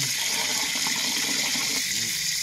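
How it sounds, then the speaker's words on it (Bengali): Water gushes steadily and loudly over flattened rice (poha) as it is rinsed, a dense unbroken rush close by with no speech. "আমরা চিড়েটাকে ভালো করে ধুয়ে নেবো।"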